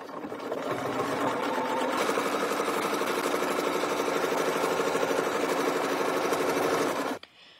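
A domestic sewing machine stitches deep arcs in a quilt with ruler work, a fast, even mechanical whir with rapid needle ticking, close and continuous before stopping abruptly.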